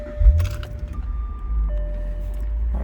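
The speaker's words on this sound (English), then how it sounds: "Start up the car right here." A Jaguar XK8 Carbon Fiber edition with about 60,000 miles starts up from inside the cabin. A low engine rumble catches and settles into a steady idle while soft electronic chime tones sound over it.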